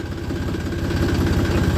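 A tractor engine runs steadily while driving through a dewy farm field, a continuous low rumbling drone with vibration, close and loud, with no talk over it.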